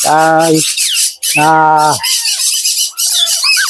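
Medium-sized parrot such as a conure or ringneck giving two loud, harsh squawks close up, followed by softer chattering chirps and calls.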